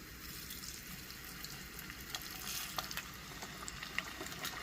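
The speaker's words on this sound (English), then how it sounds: "I'm going to start frying my ribs" Already-cooked smoked pork ribs for Nashville hot party ribs fry in oil heated to about 350–360 degrees, giving a steady, dense sizzle with scattered crackles and pops, close and continuous with no talking.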